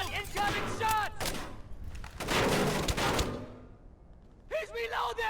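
Bursts of automatic gunfire in Splinter Cell: Chaos Theory rattle off in several clusters, separated by gaps, with game characters shouting over and between the shots.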